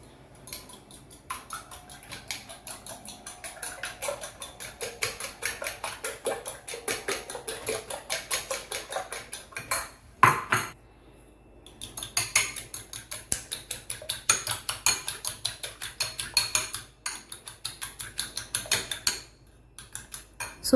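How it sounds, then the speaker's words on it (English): Eggs cracked and beaten with a fork for a Nigerian breakfast: rapid, steady clicking and tapping of metal against a bowl, with a short pause midway before the brisk whisking resumes, close and fairly loud. "Now I am breaking the eggs, and then I'm going to whisk it with my fork"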